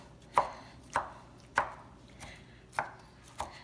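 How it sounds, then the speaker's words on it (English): Knife chopping green chilies on a cutting board for birria beef tacos, five or six sharp, evenly spaced chops close up with a quiet room behind them. "For the green chilies, like I stated to you, I need to chop these real quick."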